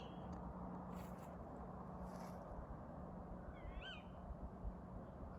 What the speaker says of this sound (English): I can hear the owl, but I can't see it.